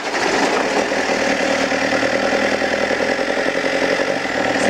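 An Opel Zafira car engine runs steadily at a rough, loud idle, a continuous mechanical drone with no speech and no change over the full length.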